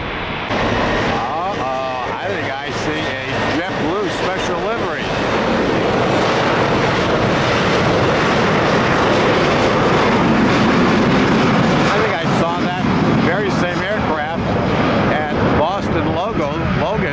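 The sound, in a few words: airplane engines at airport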